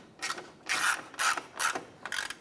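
Ratchet wrench snugging down a bumper cover bolt at the fog light retainer on a 2005-2007 Ford Five Hundred, four quick bursts of ratcheting clicks close by with short pauses between.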